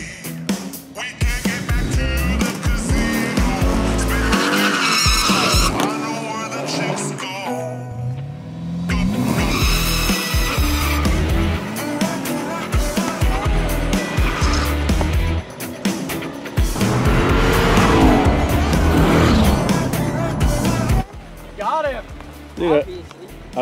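A 900 hp 1969 Camaro restomod and a 650 hp 2022 Camaro ZL1 launching in a drag race, with revving engines, squealing tires and roaring passes, interleaved with excited talk throughout.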